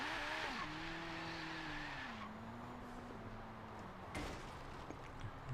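A car in the racing game Forza Horizon 3 accelerates, its engine note climbing steadily through rising gear pitches as a loud, continuous whine, with a clunk and tire noise near the end and no talk.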